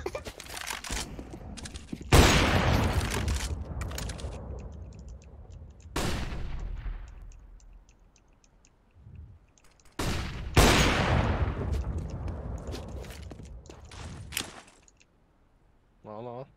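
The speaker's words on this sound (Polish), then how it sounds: "jak ja strzelam" Repeated bursts of gunfire from a Counter-Strike match on FACEIT, loud volleys with sharp onsets and decaying tails, separated by brief quieter gaps, with no talk over them.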